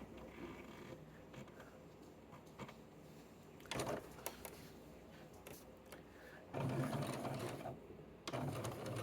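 Sewing machine stitching a garment's side seam with matched notches, a steady low mechanical whir running throughout with short louder bursts as the stitching speeds up, close and alone.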